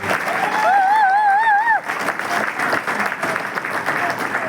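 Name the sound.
audience clapping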